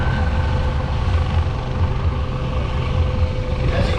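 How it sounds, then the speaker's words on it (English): A loud, steady MH-65 Dolphin helicopter drone hovering low over water, with a low throbbing rotor hum filling the whole stretch, constant and close, with no voices. "he's going to bring the helicopter a little bit lower to the water"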